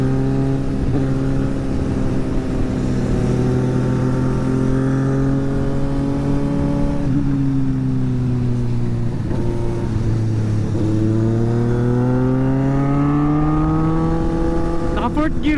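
A CFMOTO CLX and a Suzuki SV650 ride together, their engines droning loud and steady. Pitch sags and climbs again with gear changes, and a sharp rev sweep comes at the end.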